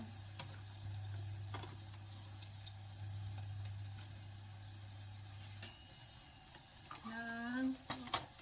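Mushrooms are stirred in a frying pan with a soft, quiet scraping and faint sizzle under a steady low hum, ending in a few sharper clicks and knocks.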